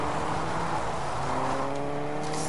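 A video game car pulls away, its engine a steady whirring drone with a rising tone toward the end, heard alone with no talk.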